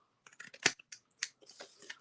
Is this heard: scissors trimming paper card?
yes